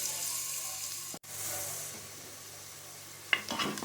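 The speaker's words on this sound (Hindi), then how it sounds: "इसमें डाल दूंगी 2 अदद प्याज, बिल्कुल आमलेट कट करके इस तरह से ये डाल देंगे, और हल्का सा हम इन्हें फ्राई कर लेंगे।" Onions frying in vegetable oil in a pressure cooker, a steady soft sizzle with a brief cut-out and a few stirring clatters near the end, faint and close.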